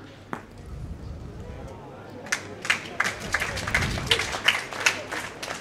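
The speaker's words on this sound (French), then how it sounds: "Alors on applaudit peut-être un peu vite" Spectators at a pétanque final clap in scattered, building bursts after a sharp click of boules, while a commentator speaks over the scene.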